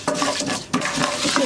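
Orzo-shaped vermicelli (arpa şehriye) toasts in a pot, with dry rustling and quick scraping of a spoon stirring it, close and fairly loud over a short stretch.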